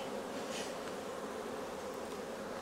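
Honey bees buzz around a beehive during a summer honey harvest, a dense continuous drone of many wings close by, steady throughout with no voices.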